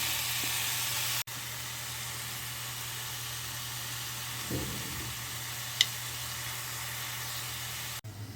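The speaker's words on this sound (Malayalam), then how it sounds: "ഈ ഒരു സമയത്ത് നമ്മളിതിൽ ഒന്നര തക്കാളിയാണ് ചേർത്ത് കൊടുക്കുന്നത്" Onions sautéing in a pan with one and a half tomatoes added, giving a steady close sizzle and hiss with a brief soft thud and stir midway as the tomatoes go in.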